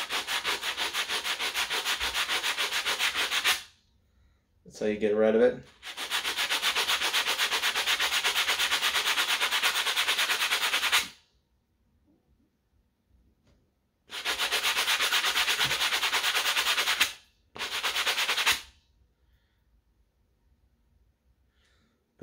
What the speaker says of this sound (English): So what you want to do is take the sanding sponge.